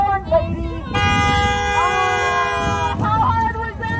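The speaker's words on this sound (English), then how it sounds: "All you gotta do is honk your horn, lady" A car horn blares in one long continuous honk lasting about two seconds, loud and close, with people talking briefly before and after it.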